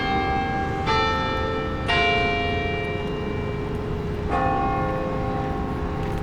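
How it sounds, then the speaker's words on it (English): Carillon bells ring from a 14-story tower, three separate strikes spaced a second or more apart, each leaving a long, bright, shimmering decay over a steady background rumble. "A carillon is an instrument with at least 23 bells."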